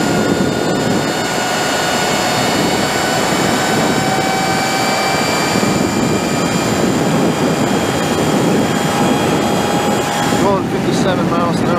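Sur Ron Chi electric motorcycle with a 72v battery riding at speed, its motor whine steady and high over constant rushing wind noise throughout.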